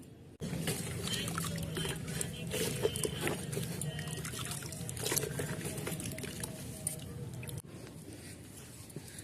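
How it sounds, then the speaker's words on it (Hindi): Water pours steadily into a pot of soil to loosen the crowded roots of a ZZ plant, a continuous close splashing trickle that runs for several seconds and then stops abruptly. "इसको गीला करके निकालती हूँ"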